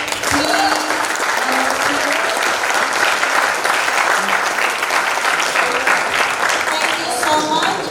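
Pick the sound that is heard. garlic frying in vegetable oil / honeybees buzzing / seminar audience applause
seminar audience applause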